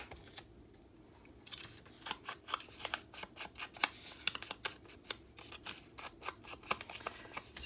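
Close-up scissors snip through paper in a quick series of crisp cuts, speeding into a busy, uneven rhythm.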